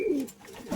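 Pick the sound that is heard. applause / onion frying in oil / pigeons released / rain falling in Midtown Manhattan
pigeons released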